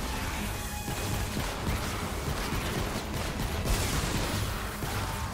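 Fireworks going off in the video game Fortnite, a dense, unbroken barrage of crackling bursts and booms filling the whole stretch without a pause, loud and chaotic with no talk.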